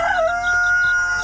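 A rooster crows loudly and close by among chickens, one long drawn-out call with softer clucks beneath it and no talking.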